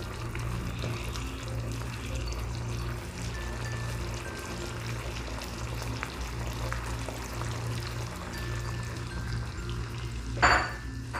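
Sliced carrots going into a pan of sweet and sour fish, a steady sizzle and bubbling frying sound throughout, with a brief clatter or stir near the end, close by and without talk.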